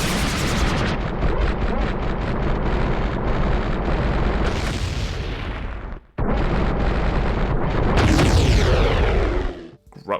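Boss Barinade exploding after defeat in Zelda: Ocarina of Time, a rapid burst of crackling blasts building into loud, sustained roaring explosions with a brief gap, then another big rumbling blast that cuts off abruptly.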